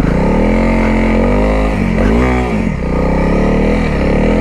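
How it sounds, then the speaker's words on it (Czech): A motorcycle engine revving hard as the bike is turned, a loud, close, steady roar with a throttle dip and rise in the middle before settling back to a sustained drone. "Chcel by som sa naučiť otáčanie motorky"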